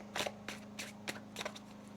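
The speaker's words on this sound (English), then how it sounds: "One more shuffle." Tarot cards being shuffled make quick papery riffles and flicks, five short close bursts over two seconds above a faint steady hum.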